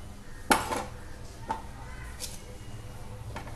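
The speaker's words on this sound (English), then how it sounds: "Now we have to transfer all the eggplants into the pressure cooker like this." Eggplants stuffed with Bagara Baingan masala drop into a metal pressure cooker, three distinct clinks and knocks spaced about a second apart, close by against a quiet background.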